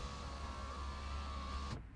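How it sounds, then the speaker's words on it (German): A steady electric motor whine of an Iveco S-Way truck power window lowering in a driving game, holding an even hum for under two seconds before cutting off abruptly. "Fenster ein bisschen runter."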